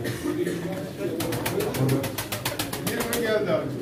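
Pigeons at a pigeon auction in Çorum, Turkey, cooing softly amid a crowded room with people talking, plus a rapid rattling flutter near the middle.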